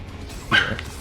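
A dog in the room barks in a short, loud burst with a yip-like edge, rising briefly over steady background sound from a video game.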